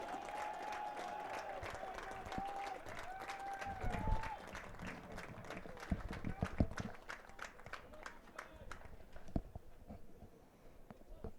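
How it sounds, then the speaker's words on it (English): Crowd applause for the senior class of the Elmhurst College men's lacrosse team at a home game against North Central College, steady clapping spread across the stands with a voice over the public address, fading out near the end. "let's have one more round of applause for the senior class of the Elmhurst men's lacrosse team"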